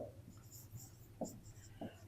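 A pen writes on a board during a maths lesson on sets, giving faint, close scratching strokes with a few sharper taps over a low steady hum.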